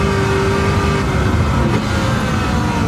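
A Red Devil Camaro race car engine roars at high speed in fifth gear, nearing 320 km/h, a loud, sustained, dense drone with a steady whine running through it and no break.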